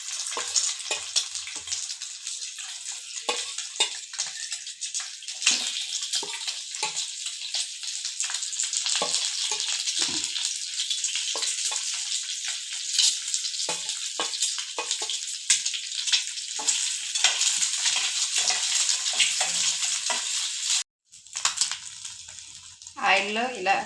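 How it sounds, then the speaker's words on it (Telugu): Eggs fry in hot oil in a pan with a steady, close sizzle that runs for more than twenty seconds. A short break comes near the end, and a few faint scrapes and clicks sound beneath the sizzle. "ఇలా దోరగా వేగినాక ఎగ్స్ని యాడ్ చేసుకుందాం."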